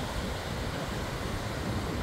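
Strong wind roars steadily across a long palm-lined beach at Bávaro in the Dominican Republic, a constant broadband rush with surf mixed in, loud and continuous throughout.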